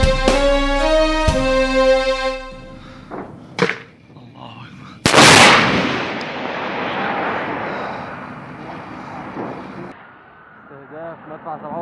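A 57 mm cannon fires on a battlefield: several sharp, heavy booms go off a few seconds apart, each followed by a long rumbling decay, amid distant background noise and voices.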